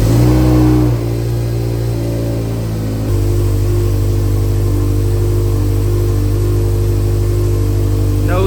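A Subaru STI with an EJ20X engine cranks and fires, catching with a brief rev before settling into a loud, steady, throbbing idle at close range.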